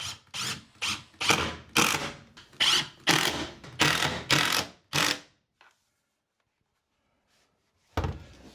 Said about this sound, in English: Grab my stainless steel screws and put them right back in.